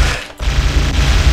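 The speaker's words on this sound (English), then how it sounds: "I don't know if I'm the one shooting or if they're the one shooting" Rapid automatic rifle fire from Halo on Legendary difficulty, a dense, loud, continuous burst of shots with a brief dip before the firing resumes.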